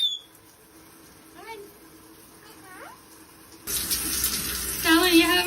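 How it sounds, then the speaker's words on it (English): Water runs steadily from a tap as a parrot is showered in a sink, the spray starting abruptly partway through and growing louder, with a few faint chirps and a voice earlier on. "Are you enjoying your shower?"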